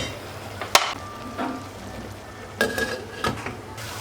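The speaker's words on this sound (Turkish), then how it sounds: "Suyunu saldı mantarlar. Şimdi çekene kadar kavuracağım." Mushrooms sautéing in a pot over low heat for mushroom soup, with a soft background sizzle broken by a few sharp utensil clinks and scrapes against the pot, no voices.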